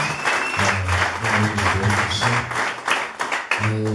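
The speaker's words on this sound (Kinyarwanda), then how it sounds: "Amashyi ku Mana." A crowd at a church ceremony honouring pastors claps in sustained applause, with a voice speaking over the clapping for most of the stretch.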